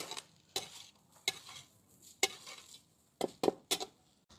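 Egg thecha rice stir-fried in a pan at home, a spatula scraping and tossing the rice in several separate close strokes with brief soft sizzling between them, no voices.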